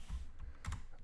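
A few quiet keystrokes on a computer keyboard, soft clicks in quick succession during a short pause in a lecture on solving differential equations in Mathematica.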